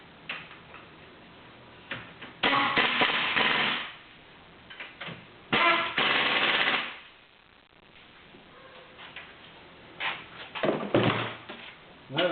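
Two 15mm wheel bearing bolts being run in on a 2006 Pontiac Grand Prix, with several bursts of rapid ratcheting or impact-tool chatter separated by quieter pauses, close and fairly loud.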